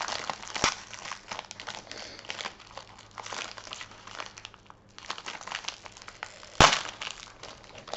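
A crinkly pet treat package is handled and opened up close, giving a long run of plastic crinkling and crumpling with a sharp crackle near the end and no voices.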